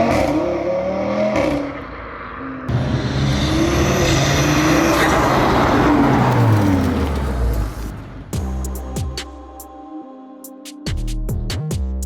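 An Audi RS3 engine and exhaust rev hard nearby, climbing and falling through a long loud pull, then settling into a lower idle broken by sharp exhaust pops and crackles.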